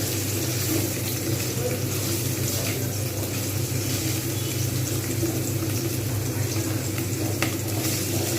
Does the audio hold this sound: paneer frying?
yes